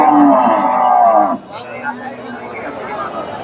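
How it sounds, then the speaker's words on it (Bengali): A cow calf moos loudly and close by at a crowded cattle market in Bogura, one long low call lasting over a second before fading into the murmur of a chattering crowd. "সুন্দর একটা গাভী বাচ্চা"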